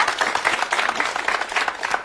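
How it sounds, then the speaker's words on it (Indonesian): Dense, steady applause from a crowd, many hands clapping together without a break and with no talking over it. "Tepuk tangannya boleh buat teman-temannya"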